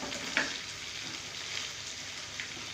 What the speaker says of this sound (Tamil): இந்த மசாலாவோடு சேர்த்து பிரட்டி போடுறேன்.